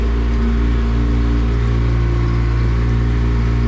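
Yamaha F70 outboard motor pushing a Hewescraft 160 Sportsman boat on the water, a loud, steady low engine drone that holds constant throughout without clear rise or pause.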